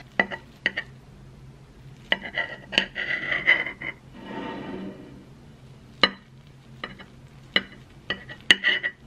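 A slice of frittata is cut and lifted from a pan during a home picnic meal in Seoul, with sharp metallic clinks and taps of utensils on cookware, a soft scraping stretch in the middle and more scattered clinks.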